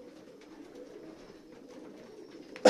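Low, continuous cooing from several racing pigeons fills an enclosed loft, with a short loud knock at the very end.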